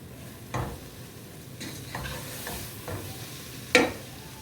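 Egg biryani masala is stirred in a pan over a soft sizzle, with several scraping strokes of the spoon and a sharp clack of metal near the end, no voices.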